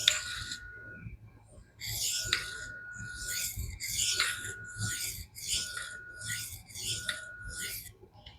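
A knife edge being lightly convexed on a sharpening stone to refine the burr produces repeated gritty rasping strokes, about ten in a steady back-and-forth rhythm, close and clear with no talking.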